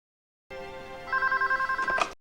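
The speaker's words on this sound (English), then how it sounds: "It's the phone call." A telephone rings in a scene from the 1993 film Philadelphia, a steady electronic trill pulsing in quick repeated bursts over a sustained orchestral opera backing.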